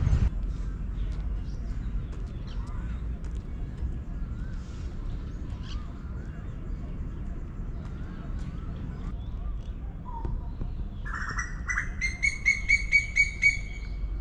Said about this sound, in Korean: 새소리만 가득하네요